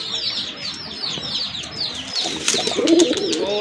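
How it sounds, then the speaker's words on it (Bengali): Desi Bombay pigeons at a bird market, a flock cooing and chirping close by with brief wing flaps, a steady busy chorus throughout. "আপনার একদম অরিজিনাল পিওর দেশি বোম্বাই কবুতর"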